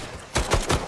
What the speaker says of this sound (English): Don't these gunshots sound good?